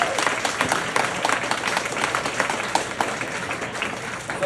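Crowd applause rises at an open mic comedy night at Chez Ernest, a steady dense patter of many hands clapping that fills the room at moderate volume with no voices over it.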